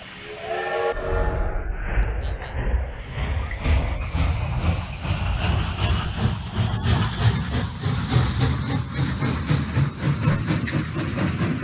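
A train in a horror video game gives a loud, sustained steam whistle with hissing steam and a rolling rumble underneath, rising steadily in pitch over about eleven seconds.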